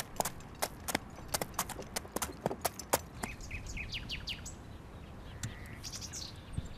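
Horse hooves clip-clop in a quick, uneven run of sharp strikes on firm ground, fairly close, then thin out while birds chirp and twitter in the background.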